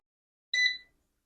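A single short electronic beep from an air fryer button as the fish setting is chosen, a brief clear tone standing alone in an otherwise quiet kitchen.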